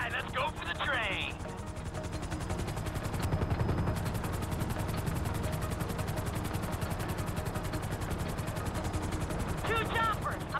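Helicopter rotor thrum and bursts of gunfire in a GTA story-mode game, a steady dense roar running throughout with rapid repeated shots layered over it.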